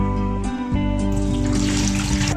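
Water is poured off soaked lobia beans, a steady loud splashing and trickling stream that runs without a break.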